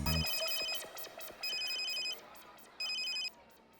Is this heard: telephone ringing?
yes